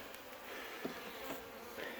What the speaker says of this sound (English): As you can see them fanning to tell everybody, hey, we got a queen.